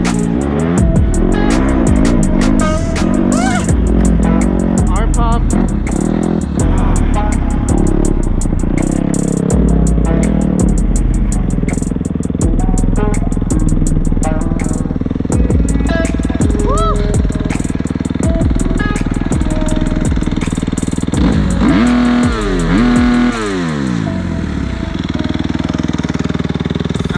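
A Kawasaki KX250SR dirt bike fitted with a Pro Circuit race motor on a first ride, its engine loud and close throughout with repeated revving and shifting, with a brief drop toward idle near the end.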